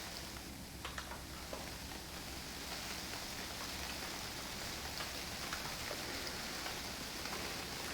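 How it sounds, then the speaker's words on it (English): Steady, heavy rain pours down in the survival game UnReal World, a dense even hiss with scattered drop patter filling the scene, no voices present. "it's raining like crazy"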